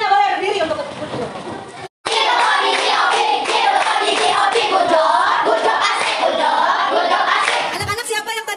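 A group of schoolchildren claps hands in quick rhythmic patterns while chattering and shouting, with one brief pause in the middle.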